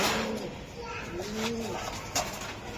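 A white racing pigeon coos close by in a few soft, rolling phrases, with faint background noise and a low voice in the surroundings.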